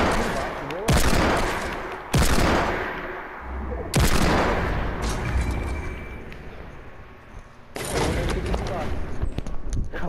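Gunfire at an airdrop in Fortnite, loud bursts of rapid shots in several separate volleys, some close and sharp, with a voice talking faintly in between.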